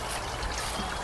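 Home-brewed Simcoe SMaSH beer poured into a glass, a brief close gurgling stream that runs steadily and fairly loud without any voices.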